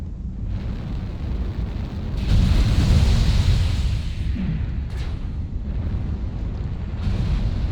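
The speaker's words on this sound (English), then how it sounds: "Airstrike online." Airstrike explosions rumble in the MechWarrior Online game, a broad loud roaring blast swelling in the middle and lingering into a sustained low rumble with a brief sharp crack afterward.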